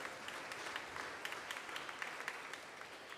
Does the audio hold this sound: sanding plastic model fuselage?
no